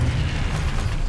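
Confringo blast spell bursting in the video game Hogwarts Legacy, a dense low-heavy explosive rumble that fills the whole short moment without a break.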